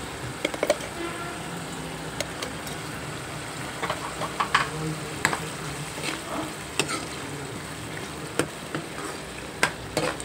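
Spices and ginger-garlic paste frying in a pan, a soft continuous sizzle broken by scattered scrapes and clinks of stirring, close and moderately quiet with no voices.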